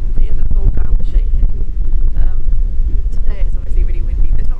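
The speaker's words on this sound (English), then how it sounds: "Today it's obviously really windy" Strong wind in the Brecon Beacons, Wales, buffets the microphone with a constant heavy low rumble and gusty roar, loud throughout, with faint voices beneath.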